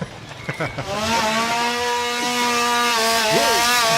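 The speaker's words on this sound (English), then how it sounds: "The chainsaw is always like, it never is not scary." A chainsaw revs loudly and close at a Halloween scare attraction, a sustained high harmonic engine whine after a few short sputtering pulls, with brief voices at the start.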